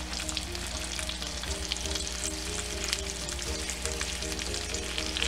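Beef back ribs sear in a tagine set on a cookie sheet, making a continuous close, steady sizzle with fine crackle and no talking over it, while a low tonal hum runs underneath.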